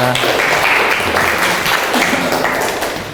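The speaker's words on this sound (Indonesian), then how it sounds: "Tepuk tangan semuanya." Children in a classroom clap their hands together at the teacher's request, a dense burst of close applause lasting about three seconds and tapering slightly at the end.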